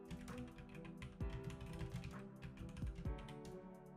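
Typing on a computer keyboard while writing C# code in Unity: quick, irregular key taps in a close, steady stream, with a few louder strokes standing out.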